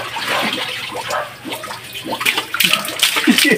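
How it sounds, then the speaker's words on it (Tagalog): Water pours continuously and splashes, as if a bath or basin is filling, a steady broadband rush that swells louder toward the end, with no talking over it. "Ayaw niya tumigil kakabuhos."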